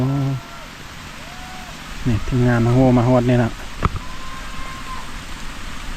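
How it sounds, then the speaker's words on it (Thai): Rain falls as a constant hiss in the background while people talk over it nearby, their voices largely covering the patter. "ฝนตกอีกแล้ว"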